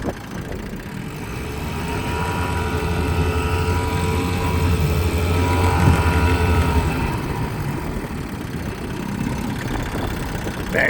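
A 1956 Johnson CD 13 5.5 hp outboard motor running in reverse, a steady buzzing drone that holds even, then eases off partway through, close and alone.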